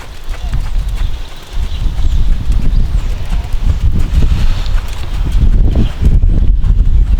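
A quarter horse's hooves clop steadily and loudly on the ground in a slow trotting jog rhythm, close by, with some rumbling noise mixed in.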